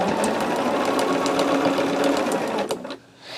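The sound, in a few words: sewing machine stitching fabric down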